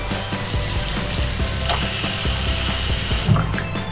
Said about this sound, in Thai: เปิดน้ำลดอุณหภูมิก่อนนะคะ